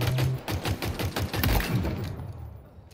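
Rapid pistol shots ring out in Halo Infinite, a dense run of sharp, close reports in quick succession over game ambience, fading out near the end.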